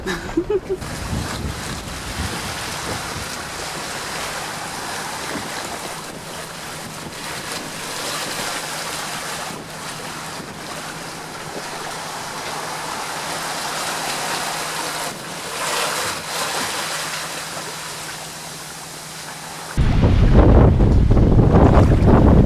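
Cold wind at about 21 knots gusting over a sailboat heeling and rolling heavily at sea, a steady broadband roar buffeting the microphone throughout, swelling into a louder, rougher blast near the end.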